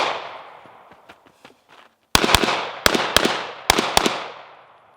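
Pistol shots at an outdoor shooting range: a faint early pop, then six sharp, loud reports in three close pairs over about two seconds, each ringing out with echo and no talking.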